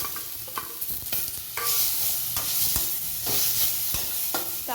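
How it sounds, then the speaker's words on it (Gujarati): Tomatoes are tipped into a pan of sautéed onions and stirred, producing a close, lively sizzle broken by repeated spoon scrapes and knocks against the pan, with no talking. "હવે આપણે તેની અંદર ટામેટાને નાખી દઈશું."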